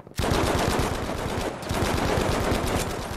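Rapid automatic gunfire in the Battlefield V multiplayer shooter, a loud close burst of evenly spaced shots, a brief pause, then another sustained burst.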